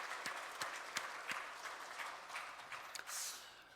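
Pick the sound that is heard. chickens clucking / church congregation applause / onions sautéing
church congregation applause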